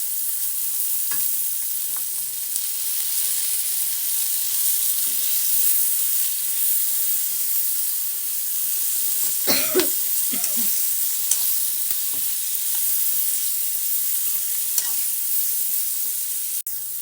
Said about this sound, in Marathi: हे टाकून सगळं छान असं भाजून घेणार आहे मी